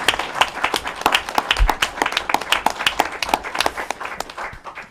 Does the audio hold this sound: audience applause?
yes